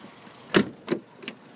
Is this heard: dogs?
no